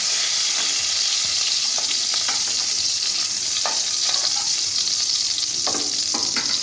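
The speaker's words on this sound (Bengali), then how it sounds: "খুব বেশি করে পটলটা ভাজার দরকার নেই, হালকা করে ভেজে নিলেই হয়ে যাবে।" Pointed gourd (potol) fries gently in oil in a pan: a continuous, close hiss of sizzling with occasional sharp stirring clicks, and no voices.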